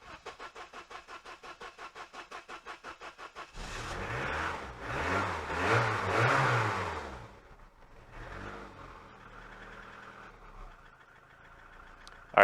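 A Saab project car's engine turns over in fast rhythmic chugs, then catches and revs loudly in rising and falling surges before settling into a rough, quieter idle, close by with no talking.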